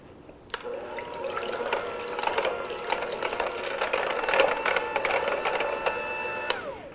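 An electric hand mixer beats orange juice, lemon juice, vanilla and orange extract together in a bowl, a steady whirring hum with wet rattling from start to finish.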